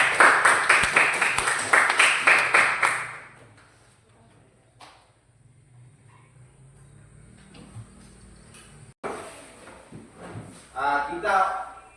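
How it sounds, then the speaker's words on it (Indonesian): Classroom applause for a student group at a state junior high school: a few seconds of steady, fairly loud clapping from the class fade out, then a teacher speaks over quiet room tone. "Kita berikan dulu aplaus untuk teman kita yang kelompok 1."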